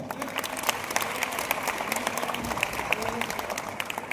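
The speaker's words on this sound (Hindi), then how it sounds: "एक जोरदार तालियां बजाएं।" An audience at a road safety awareness campaign claps in a dense, lively round of applause, with voices chattering underneath.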